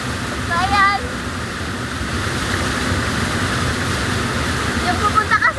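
A river in the countryside flows with a steady, broad rush of water, close and continuous, with a few faint high chirps near the start and end.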